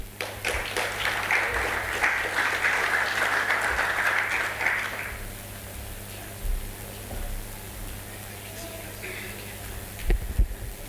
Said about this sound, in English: A round of applause for Madam Gaha.